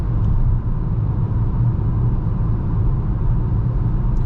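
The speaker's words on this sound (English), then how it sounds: "Slight wind noise from the side mirrors and tire noise." Steady wind and tire roar inside a 2021 Peugeot 5008 cruising at 100 km/h at night, a continuous low rumble with a faint airy hiss from the side mirrors, no talking.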